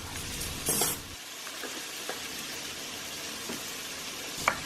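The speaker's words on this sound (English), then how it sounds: "I'm going to go ahead and I'm going to brown this up" Ground meat browns in a hot pan for pastitsio, giving a continuous close sizzle with a few stirring scrapes and small bursts.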